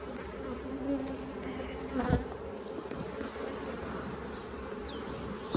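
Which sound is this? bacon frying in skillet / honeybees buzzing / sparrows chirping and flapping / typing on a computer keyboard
honeybees buzzing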